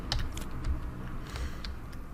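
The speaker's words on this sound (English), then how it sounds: "let's shuffle all the different decks and let's draw our opening hand" Decks of cards for the Worldbreakers card game are shuffled by hand, giving quick bursts of soft clicking and riffling at close range, with no talk over them.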